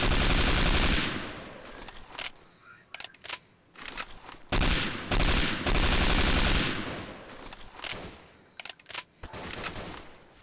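Sniper rifle fire in the video game Garry's Mod: loud, sharp gunshot bursts with echoing tails, several cracks spaced irregularly across the stretch, with brief quiet gaps between them.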